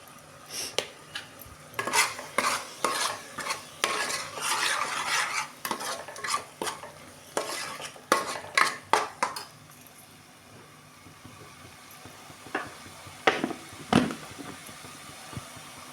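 Spices are stirred into hot oil in a pan for a fish curry, with a spoon scraping in quick, repeated strokes over a soft sizzle. The strokes trail off into a few sharp clanks near the end, and no one speaks.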